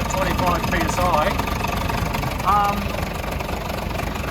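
An AEC Merlin bus engine idles with a steady, low rumbling throb, close and continuous, while someone talks over it.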